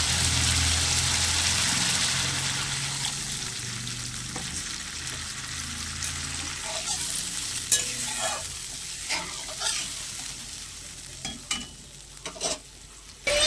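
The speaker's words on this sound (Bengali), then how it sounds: "এবার দিয়ে দেবো পরিমাণ মতো জল।" Water poured into fried fish-curry spices in hot oil, a loud steady sizzle that gradually dies down, followed by sharp intermittent scrapes and clinks of a spoon stirring in the pan.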